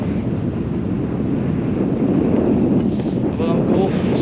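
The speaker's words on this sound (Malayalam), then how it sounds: "സൂപ്പർ കാറ്റ്, ഒരു രക്ഷയില്ലാത്ത കാറ്റാണ്" Strong wind at a hilltop viewpoint buffeting the microphone, a continuous heavy rumbling roar with gusting swells, and a voice faintly audible beneath it toward the end.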